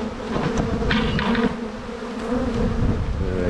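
A dense swarm of honeybees buzzes steadily around a hive, a continuous close, loud drone with individual bees flitting past, no voices over it.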